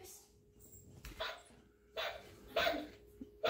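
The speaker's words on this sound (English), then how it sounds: "Are you gonna pet the doggy?" A dog barks at Halloween decorations in short separate bursts, three or four sharp barks spaced irregularly over a quiet, faintly humming room.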